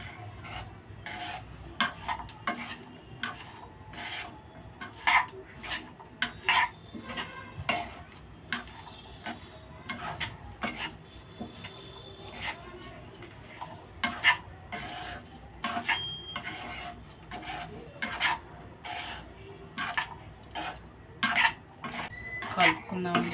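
Cucumber pickle with chili powder being stirred and mixed in a bowl, a repeated scraping and rubbing rhythm of utensil against the bowl, close and fairly quiet, with a few clinks.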